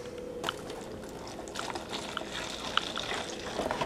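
Milk poured into a cereal box, a faint steady trickling and sloshing stream with a few small splashes, close by and low in level.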